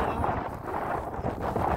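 Wind buffeting a microphone outdoors, a steady low rumbling roar that stays loud throughout without pause.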